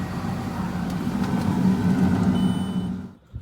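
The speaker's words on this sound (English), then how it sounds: "We're going to hit the unfold. Booms are going to lift up, swing out." Case 4430 sprayer running as its hydraulic booms unfold, lift and swing out, a steady loud engine and hydraulic drone that swells, then drops off near the end.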